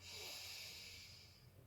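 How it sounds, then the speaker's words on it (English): A single deep, airy inhalation during a children's yoga breathing exercise, soft and close, swelling quickly and then slowly tapering off as the breath fills. "Let's do some really big breaths."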